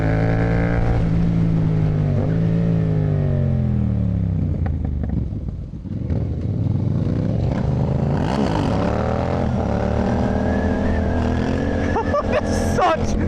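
A big adventure motorcycle, an Africa-type bike, rides past on a Brazilian road, its engine note rising and falling loudly and close, with another vehicle's drone underneath and people talking over it.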